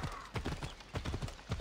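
Horse hooves gallop in Assassin's Creed Odyssey, a fast, regular clip-clop of repeated beats that stays near and fairly loud throughout, with no talking over it.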